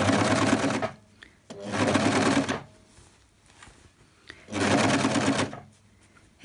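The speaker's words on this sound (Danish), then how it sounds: "og så kører jeg lige en tur rundt på overlockeren." An overlocker sews around a sweatshirt seam at a kitchen table, its fast steady whir coming in three close, loud bursts of about a second each, with quiet pauses in between.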